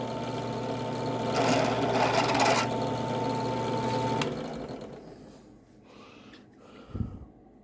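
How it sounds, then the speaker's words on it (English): A motorized cartridge case length trimmer whirs loudly while trimming 7.62x39 brass, a steady hum that winds down after about four seconds, followed by quieter handling and a short thump. "So what I do is I've got the trimmer in here."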